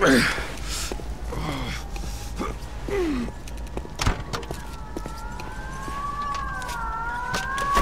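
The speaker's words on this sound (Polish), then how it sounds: "No i w tle syreny." Police sirens wail in Mafia II, rising and falling in the background under a man's pained breathing and gasps, growing steadier and more prominent toward the end over a constant engine rumble.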